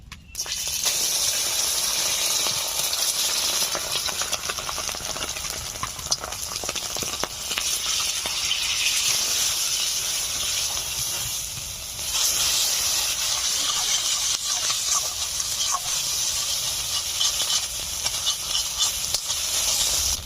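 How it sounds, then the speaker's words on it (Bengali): Eggs frying in hot mustard oil in a wok give a loud, steady hiss and crackle that runs unbroken and close, with no voices. "তেল গরম হয়ে গেছে, ডিম ভেজে নিচ্ছি।"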